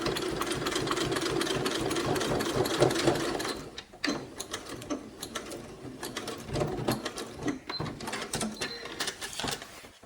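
A domestic sewing machine runs steadily while making small basting stitches along a zipper, then stops and starts in short mechanical bursts of whirring and clicking, close and moderately loud.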